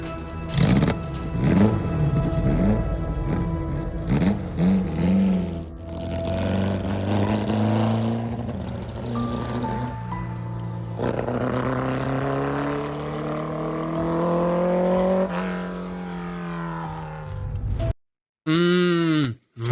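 A 1959 Porsche 718 RSK Spider race car engine revs and climbs through the gears, loud and close with rising harmonic whine, then cuts off abruptly near the end with a brief burst after.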